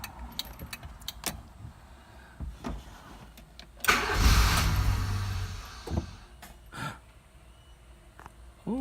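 An ignition key jingles and clicks, then a car engine cranks and catches with a loud rising rush that settles into a rumbling idle, before dropping back to quieter scattered clicks and rattles.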